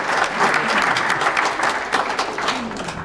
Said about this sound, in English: let's say get a little round of applause for the Emerald Society and the NYPD